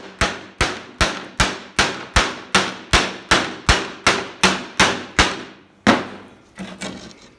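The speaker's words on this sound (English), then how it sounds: "Let's give it a few more whacks." A hammer strikes an epoxy-coated wall in a fast, even series of about fourteen sharp, loud knocks, followed by a pause, one more hard blow and a softer thud.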